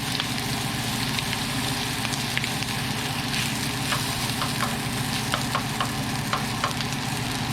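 Shrimp and rice fry in a pan with a steady, close sizzle, and scattered clicks and scrapes of stirring run throughout.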